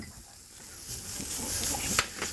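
Onions and shiitake mushrooms sizzle softly in a hot pan, a low hiss building slightly with a few brief crackles near the end.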